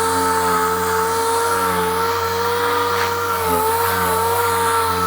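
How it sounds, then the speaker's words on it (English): An orbital sander with 80 grit paper roughing up and stripping paint from a metal car hood, a steady loud whirring drone close by. "80 grit orbital sander"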